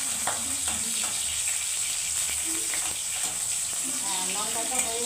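Tomato frying in hot oil after green chilli for a tilapia curry, a continuous close hissing sizzle with small crackles throughout, while someone talks over it.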